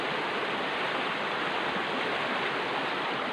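A forest river flows in a steady, dense rush of water, continuous and moderately loud with no voices.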